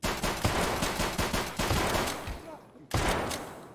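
Automatic gunfire in the video game Escape from Tarkov during a boss fight, rapid loud bursts fired in quick succession, a short gap, then another burst, with a voice faintly underneath.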